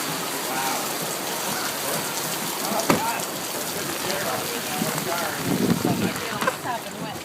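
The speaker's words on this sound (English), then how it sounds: "It's raining sideways." Heavy rain pours steadily and densely throughout, a constant close wash of drops with a brief sharp knock near the three-second mark and faint voices occasionally mixed in.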